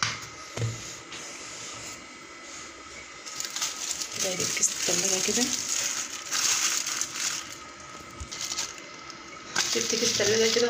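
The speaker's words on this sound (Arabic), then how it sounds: "داير الكيس التلاجة كده" A plastic freezer bag crinkles and crunches as it is wrapped around a jar of pickled apple olives, with bursts of rustling rising and falling close by.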